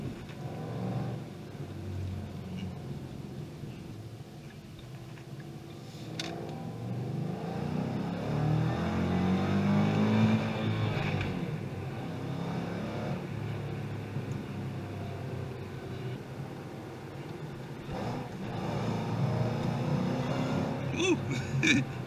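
A supercharged 700hp Shelby GT500 Mustang pulls hard after a downshift, its engine note climbing steadily and rising in pitch under a low rumble, heard from inside the car.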